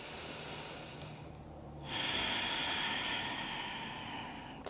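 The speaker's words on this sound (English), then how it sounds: "and taking a few breaths here" A slow, deep breath drawn and released while holding a yoga pose on a mat, a soft airy inhale followed by a fuller, steady exhale, close and quiet with no talking.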